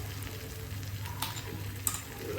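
Chicken fries in ghee with garam masala for a Tamil chicken varuval, a steady close sizzle under occasional stirring scrapes, with no talking.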